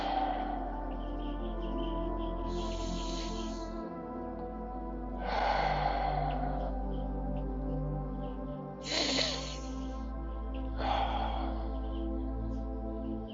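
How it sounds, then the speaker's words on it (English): Deep breathing during a stretching workout comes as four slow, airy breaths spaced several seconds apart, heard over steady background music. "Nice deep breaths, folks."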